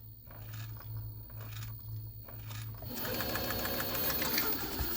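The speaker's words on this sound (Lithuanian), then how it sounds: "Galite siūt labai lėtai, kaip dabar aš siūnu, matot" A disassembled Jaguar SJ-23 Super Jeans sewing machine with a servo motor stitches slowly with evenly spaced mechanical pulses, then shifts to a louder, denser running whir for the last couple of seconds.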